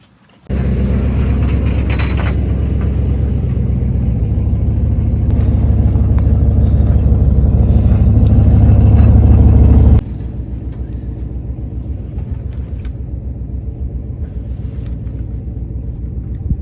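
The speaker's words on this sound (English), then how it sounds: "bringing the truck down" A truck engine rumbles steadily as the truck is brought down to load a water tank for watering livestock in below-freezing weather, loud and close, then drops to a lower idle-like drone partway through.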